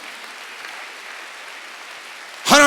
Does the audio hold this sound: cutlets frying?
no